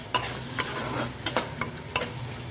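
A spatula stirs spice masala with garam masala as it sautés in a pan for doi katla fish curry: soft scraping strokes at an uneven pace over a steady background sizzle, close by and with no talking.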